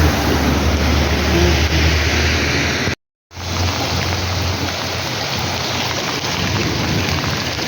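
Heavy continuous rain pours down in Kotpad near a college on Kenduguda road, where floodwater is entering houses. The rain is a loud, dense, unbroken roar, with one short dropout part way through.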